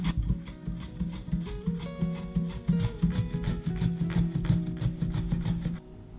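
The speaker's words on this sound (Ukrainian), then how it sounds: "Беру сікачку, на яку ми січемо капусту, та нарізаю огірочок тоненькими слайсами." A cabbage chopper thinly slicing a cucumber gives a steady run of close, fast rhythmic cutting and rasping strokes for about six seconds before stopping abruptly.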